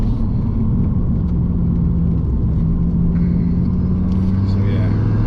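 Ford Fiesta ST fitted with a Collins Performance Stage 3 exhaust, a loud steady low engine drone and rumble heard from inside the car while people talk over it.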